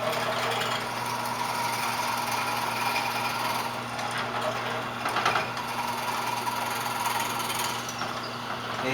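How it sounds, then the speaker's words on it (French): Drill press bit descending into a metal workpiece in a school shop lab, a steady motor hum with a continuous cutting whir and a brief rougher burst midway, no talk. "je peux commencer à descendre le forêt dans la pièce"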